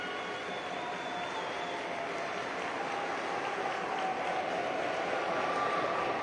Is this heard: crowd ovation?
yes